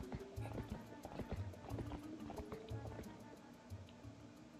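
Epona the horse gallops in The Legend of Zelda: Twilight Princess, her hooves beating a steady, rhythmic clip-clop under a soft game backdrop, with faint voices at times.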